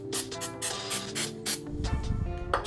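Glue activator spraying onto a small wooden craft piece in several short, close hissing bursts separated by brief pauses, with a light background of tonal hum.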